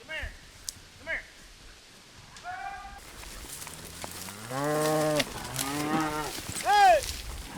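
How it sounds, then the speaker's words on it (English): Cattle mooing repeatedly on open ranch land in rough cowboying country as cow dogs round them up, several drawn-out calls near and far, with a voice and shouts mixed in. "That's where those cow dogs earn their keep, rousting cows from even the toughest hiding places."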